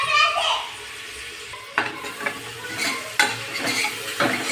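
Mint and coriander leaves are stirred in a pan, with a soft sizzle under several scraping stirs; a voice is faintly heard early on.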